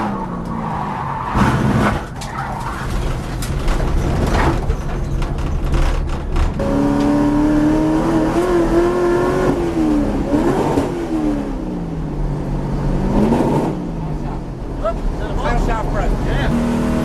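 A race car driving hot laps, engine revving and rising in pitch through gear changes with tyre squeal, loud and close throughout, with voices talking over it.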